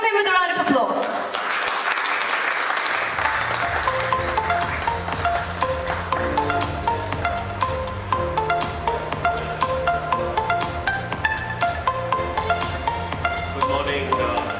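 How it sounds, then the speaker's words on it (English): An audience at the BusinessLine Agri and Commodity Summit 2024 applauds an editor walking to the stage. A burst of clapping fills the first few seconds, then steady music with a rhythmic beat carries on loudly under and after it. "Let's welcome him with a round of applause."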